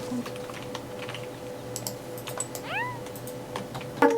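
A cat in the video game Staxel gives a short rising meow, then a quick chirpy meow near the end, over soft computer keyboard typing and a faint background hum.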